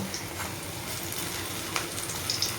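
Pointed gourd slices, each cut with three slits, frying in oil, a continuous close sizzle with a few small crackles and pops toward the end, with no talking.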